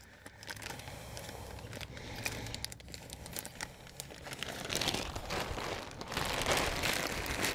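Continuous crinkling and rustling of a plastic garbage bag being cut with scissors, small snipping crackles, close by and fairly quiet, growing a little louder toward the end.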